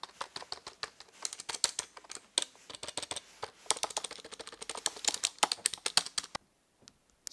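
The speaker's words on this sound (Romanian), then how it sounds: "Tastatura este destul de silențioasă. Chiar foarte silențioasă." Typing on the quiet keyboard of a Lenovo IdeaCentre AIO 24IRH9 all-in-one PC: a steady run of soft, close key clicks in quick irregular bursts, stopping near the end.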